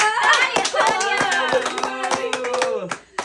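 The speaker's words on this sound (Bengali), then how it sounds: "তালি তালি" Steady, evenly spaced hand claps, about six sharp slaps in a row, ring out close by during a lively bottle-flip and token-match challenge game, with voices talking and chanting over them throughout.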